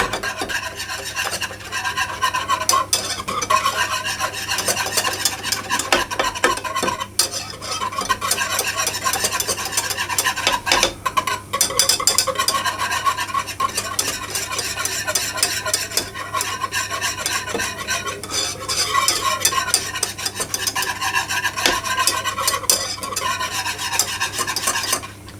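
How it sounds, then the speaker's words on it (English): A whisk scrapes and rattles quickly and without pause against a pan on the heat as strawberry tart custard thickens, keeping up a continuous, close, brisk stirring rasp with no voices. "So I'll put the heat on and I'll immediately start to whisk."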